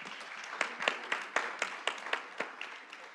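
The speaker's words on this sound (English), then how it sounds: "Can you give them another round of applause here?" An audience at a panel discussion applauds the panelists, producing a smattering of individual claps, some louder and closer, over a soft diffuse bed of clapping that tapers off toward the end.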